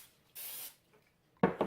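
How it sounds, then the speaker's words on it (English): A short hiss of oil sprayed onto pizza dough in a bowl, then a brief scraping rustle near the end; quiet setting with no talking. "I'll lightly give the top of the dough a spray"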